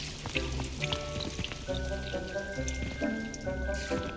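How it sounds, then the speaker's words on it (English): Steady pattering rain in Hogwarts Legacy with a sizzling texture, heard under soft continuous background music. "Oh, it's raining."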